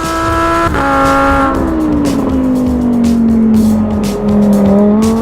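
A Lamborghini Huracán EVO drifting: a loud, close engine roar with a strong tone that drops and slides under throttle, holding steadily with faint tire noise mixed in, and no voices.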